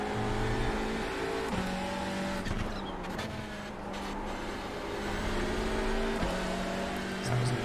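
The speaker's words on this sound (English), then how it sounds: "this Hyundai sounds good" A Hyundai race car in iRacing's IMSA series at Okayama, its engine revving and shifting through gears with some tire noise, fairly prominent beneath a commentator talking over it.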